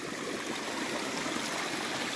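A mountain stream on the Appalachian Trail near Mount Rogers, with water flowing and rushing steadily and fairly close by, loud and continuous with no voices.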